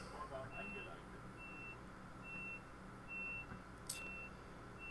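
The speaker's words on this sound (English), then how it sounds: "let's close up them doors" Train door closing warning beeps in Train Sim World 2 sound as a steady series of short, evenly spaced electronic tones over a constant low cab rumble.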